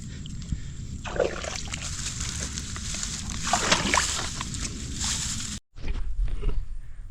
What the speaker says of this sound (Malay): Dah masuk air. Mengalir masuk dalam.